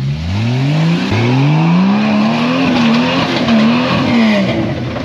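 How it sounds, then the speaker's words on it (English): Jeep Cherokee on DOT street tires strains up a steep off-road hill, its engine loud and close, droning and rising in pitch with wavering revs as the tires scrabble for grip. "I don't think Mark realizes how legit this hill is in a Jeep Cherokee on street tires"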